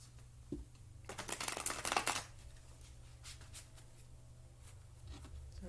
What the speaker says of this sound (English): Shuffling is loud.